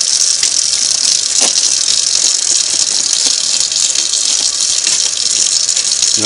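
Tap water gushing steadily into a sink while Singer 301A sewing machine parts are washed, a loud continuous hiss with occasional clinks and rattles of metal parts.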